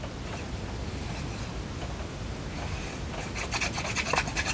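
Paper with a deckle-cut edge being pressed and rubbed down onto a file folder, a steady close rasping scrub throughout that grows slightly brighter and more textured near the end, with no voices.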